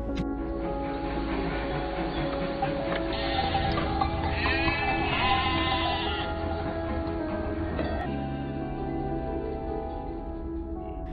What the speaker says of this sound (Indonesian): membawa domba-domba itu ke dalam kandang